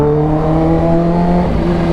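A first-generation 2015 Kawasaki H2 supercharged motorcycle engine held at a high, steady rev, a loud, close, tonal whine and roar sustained without pause and without talk.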